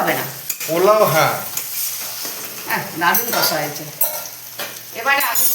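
Potatoes going into a hot, sizzling pan for Bengali chicken curry with potatoes, a frying hiss under loud clattering and stirring, with voices talking over it.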